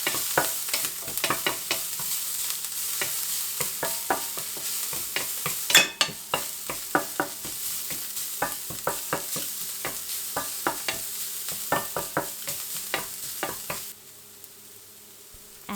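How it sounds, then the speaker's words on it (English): Minced ginger and garlic sauté in hot vegetable oil in a pan, a sharp spatula stirring with repeated quick scrapes over a continuous sizzle, which drops to a quieter hiss near the end. "Add the minced ginger and garlic. Sauté for a minute or so until fragrant."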